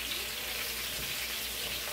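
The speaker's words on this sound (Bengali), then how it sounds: "এই যে আমি ফ্রাই করতেছি, বুকুলি, চিকেন," Broccoli, chicken and egg fry in a pan for dinner, giving a steady, close sizzle that holds evenly from start to finish with no one talking.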